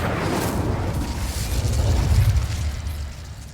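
Spell blasts in the video game Hogwarts Legacy rumble as a series of muffled explosions and bursts, loud and continuous with a deep booming low end throughout.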